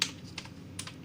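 Computer keyboard typing into LibreOffice Writer, a few quick close clicks in a brief burst against faint room noise.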